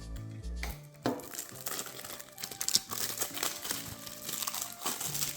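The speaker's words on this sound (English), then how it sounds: "I can get the cellophane off" Cellophane wrapper torn and crinkled off a Final Fantasy VII Rebirth Deluxe Edition game case, close crackling and rustling bursts over several seconds, fairly quiet, no talking.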